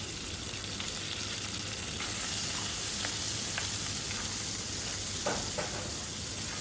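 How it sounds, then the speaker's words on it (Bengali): Pieces of meat stir-fried in hot oil with green chillies for mixed chow mein, a dense, loud continuous sizzle with occasional faint stirring clicks. "মাংসের টুকরাগুলো দিয়ে তেলের মধ্যে ভালোভাবে নাড়াচাড়া করে নেব"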